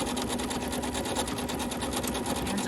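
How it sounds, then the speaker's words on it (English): A sewing machine chain pieces quilt fabric, its needle running in a fast, even mechanical rattle that holds steady and close, faint in level, with no voices. "We're sewing off of one and onto the next."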